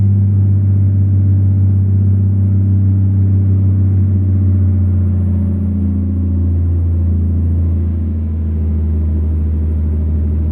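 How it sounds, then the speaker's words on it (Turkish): A loud, steady truck engine in Euro Truck Simulator 2 drones low and rumbling, holding a constant pitch with slight shifts but never revving up. "Gürültüye bak arabadaki."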